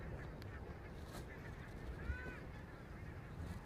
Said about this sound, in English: geese, I think.